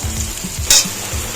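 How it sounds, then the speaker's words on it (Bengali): Crushed garlic dropped into hot oil in a pan, a steady close sizzle with a brief louder hiss burst midway and soft low stirring knocks underneath. "থেতো করা রসুনটা দিয়ে দিলাম।"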